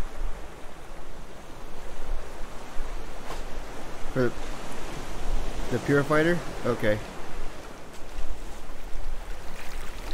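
Rough ocean waves wash and surge continuously around a floating raft in the survival game Raft, a loud broadband rush with a brief spoken exchange midway.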